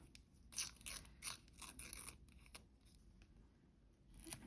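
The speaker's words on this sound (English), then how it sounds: "So I think I'm going to go with this Coffee Monsters Co. one, but we're going to tear it in half" A Coffee Monsters Co. paper sheet is torn in half by hand, giving faint, crisp crackling rips in short bursts, close and quiet.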